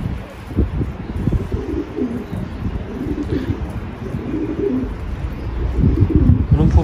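Close pigeons, including piebald and Mulemans pigeons, coo in soft low repeated phrases amid faint chirps and light wind noise, growing slightly louder toward the end.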